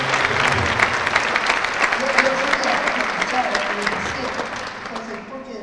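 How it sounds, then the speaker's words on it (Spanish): Applause from an audience at a festival event, a dense steady patter of clapping that fades slightly toward the end. "yo creo que eso merece un aplauso."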